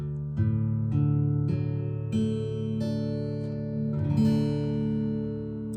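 An acoustic guitar in open D tuning is strummed slowly, ringing chords struck several times and left to sustain, close and clear with no talking.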